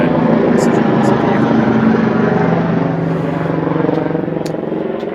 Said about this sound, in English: Emergency helicopter just flew over.